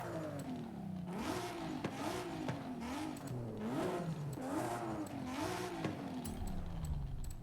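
Modified car engine with aftermarket exhaust revving in Forza Horizon 5, rising and falling in repeated throttle blips with a rasping tone, held close and steady, then easing off toward the end.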